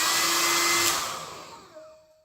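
AIUNAOM 2400W ionic hair dryer blowing with a loud airy whoosh that winds down and fades out over about two seconds, leaving a faint fading whine.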